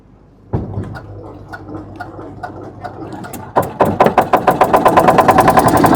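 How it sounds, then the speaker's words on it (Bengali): A motor boat engine starts for a river ride in Varanasi: a sudden thump, then rough low turning, before the engine catches into a fast, loud, steady chugging rhythm close by. "আমাদের নৌকা বিহারও স্টার্ট হয়ে গেল"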